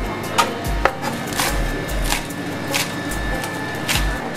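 A knife chops cucumber for a salad on a board, giving a handful of irregular, close, crisp taps spread over a few seconds above a steady background hum.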